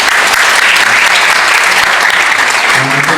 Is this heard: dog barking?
no